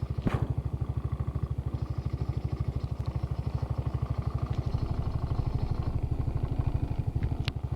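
Trailmaster 300 XRX engine idling after startup, a rapid, even chugging pulse with metallic rattling from the front end, steady and close throughout with a few sharper clanks.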